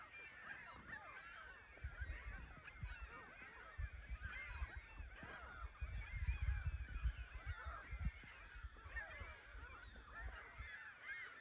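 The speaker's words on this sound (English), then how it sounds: "And then the seagulls are what you can hear." Gulls and other shorebirds call continuously along a beach where pelicans rest on the sand and a nearby hill, a dense chorus of honking, squawking cries heard at moderate distance with no talk.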